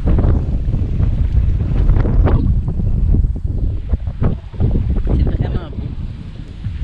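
Steady wind rumbles against the microphone outdoors near a river at Hawkesbury, Ontario, loud and continuous throughout.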